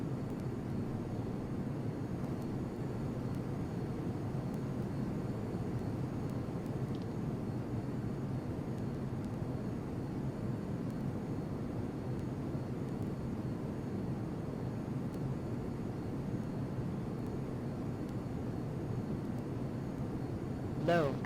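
A steady, droning engine roar from an F-22 Raptor jet in Flight Simulator X runs through the whole stretch. It sounds constant and even, with no speech during it.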